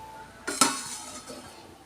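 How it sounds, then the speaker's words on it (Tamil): A pot of fish curry with mango and green chilli simmers on the stove, giving a soft bubbling hiss. A single metallic clink of a utensil against the pot sounds partway through, close by and without speech. "குழம்பு கொதிச்சிருச்சு."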